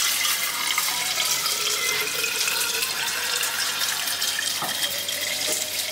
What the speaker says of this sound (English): Fill up my water.